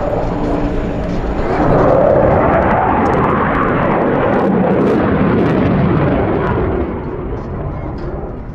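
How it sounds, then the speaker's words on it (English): A Hungarian Air Force Hind helicopter roars loudly and continuously at close range, a dense broadband engine and rotor noise that peaks midway and eases slightly at the end. "But especially for Adu, it is the Hungarian Air Force Hind."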